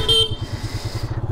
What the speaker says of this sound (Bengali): এই বাইকের হর্নটা একটু প্রবলেম